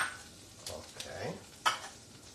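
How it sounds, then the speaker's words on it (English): Butter melting in a frying pan for scallops, a soft sizzle with a few scraping stirs and light clinks of a utensil against the pan, fairly quiet and close. "And we got to melt this butter out a little bit."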